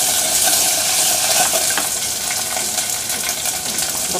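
Whole garlic cloves browning lightly in hot oil make a loud, bright, continuous sizzle close up, with occasional stirring clinks and no voices.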